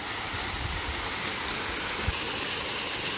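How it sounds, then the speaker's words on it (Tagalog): A waterfall in Japan in autumn gives a steady, even rush of falling water, broad and constant with no break. "Waterfalls."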